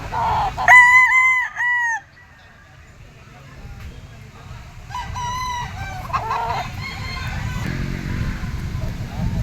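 Gamefowl stag at a sale crows loudly and close twice, with a fainter crow following, while someone talks throughout.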